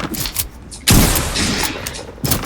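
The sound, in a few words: shotgun reloading in a video game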